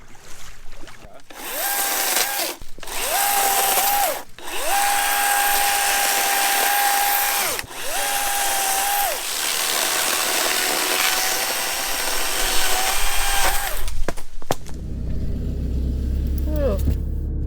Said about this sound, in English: You may have to do some chainsawing.